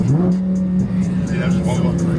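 A car engine pulls steadily in sport mode on narrow, winding mountain roads, holding a droning tone with slight rises, while people talk over it inside the cabin.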